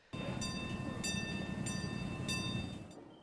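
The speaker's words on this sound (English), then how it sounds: "A local miniature train ride is back in action despite a little setback recently." A miniature live steam train ride runs at a night event of a live steamers club in a park, giving a steady close rumble of rolling wheels and machinery with faint, repeated bright metallic ringing over it for about three seconds.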